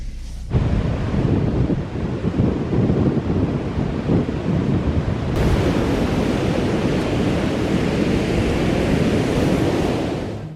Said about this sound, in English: The white-capped waves today are really impressive as they crash onto the beach.